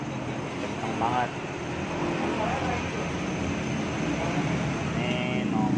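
A Cosmos electric fan runs fast on speed 2, producing a steady, loud broadband rush of air with a constant motor hum, while a voice speaks briefly over it.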